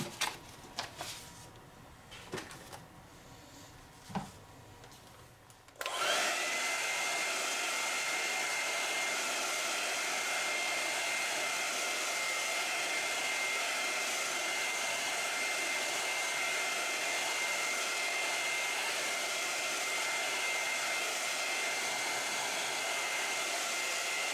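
A hair dryer switches on after a few seconds of faint handling clicks and then blows loud and steady to dry acrylic paint on a canvas, a constant close whoosh with no talking.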